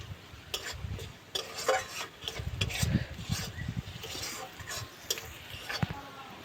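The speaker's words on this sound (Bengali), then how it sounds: "আদা রসুনটা একটু ভেজে নেব।" Grated ginger and garlic fry with onions in oil as they are stirred, giving irregular scraping and knocking strokes of a spoon in the pan over a soft, low sizzle.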